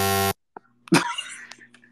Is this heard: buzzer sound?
yes